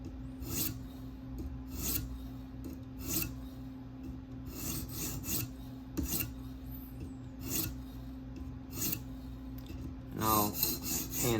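A K390 steel Delica knife is stroked across the stone of a TSProf K03 guided sharpener to flip the burr, giving close, regular raspy scrapes about once a second, alternating sides, with no talking.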